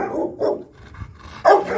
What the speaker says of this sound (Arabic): في كلب خطر هنشوفه بس اللي بيهوهو ده